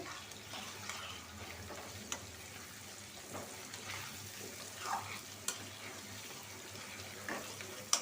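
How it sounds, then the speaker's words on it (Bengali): Potatoes frying with spices in a pan, a soft, steady sizzle with occasional stirring clicks and scrapes, fairly quiet and close. "দিয়ে দিছি আলু আলুটা একটু লাল করে ভাইজা নিব"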